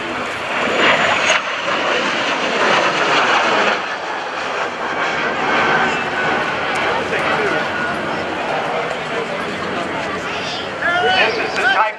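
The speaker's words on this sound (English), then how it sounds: "This is the type of aircraft that was flown by then Lieutenant John McCain, then now Senator John McCain." A-4 Skyhawk jet flown at the 2015 NAS Oceana airshow roars steadily and loud throughout, a broad continuous engine rush with a commentator talking over it.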